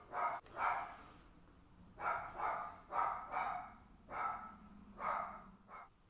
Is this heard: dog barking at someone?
yes